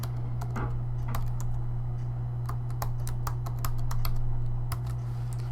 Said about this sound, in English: From here, you'll enter your username and password.